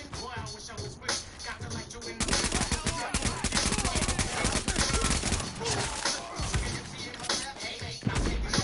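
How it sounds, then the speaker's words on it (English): Enemy gunfire aimed at the player in The Division: rapid bursts of automatic fire grow louder and denser after a quieter start, crackling over game sounds while someone talks. "Oh, somebody shooting me with a shot."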